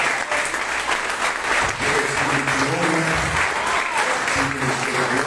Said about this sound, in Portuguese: dê uma linda salva de palmas para Jesus nessa manhã